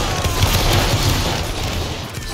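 A musket volley fired on command in a Roblox Waterloo battle game: a loud, dense crackle of overlapping shots rolling into a sustained booming roar.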